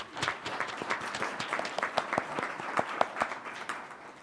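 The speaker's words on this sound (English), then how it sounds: "Let's give him a round of applause." Audience applause at a program event, a steady patter of many hands clapping with sharp individual claps standing out, moderately close and continuous throughout.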